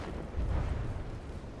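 A deep, booming bomb explosion from a naval battle in the game From the Depths, a single heavy low rumble swelling and then fading over a second or so.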